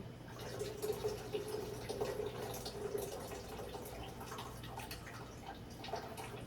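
Hot Colombian sancocho broth pouring from a pot in a home kitchen, a steady faint trickle and drip of liquid lasting throughout, with a low background hum.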